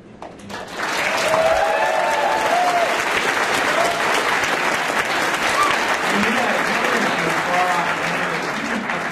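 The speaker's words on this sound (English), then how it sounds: "just a quick round of applause for" Sustained applause from a convention audience at a voice actor panel, honoring attendees who traveled from around the world; broad steady clapping fills the room for about eight seconds, with a few voices and whoops rising through it.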